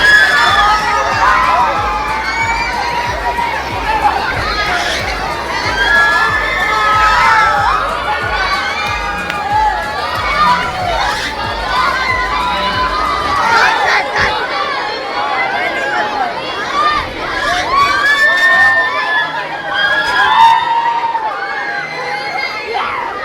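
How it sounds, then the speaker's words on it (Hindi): Crowd of excited children on a fire ride at a fairground, screaming and shouting continuously in loud overlapping waves, with cheering and chatter mixed in throughout. "तो बच्चों की स्क्रीमिंग आपने सुन ली"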